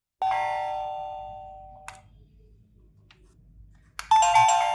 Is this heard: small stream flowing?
no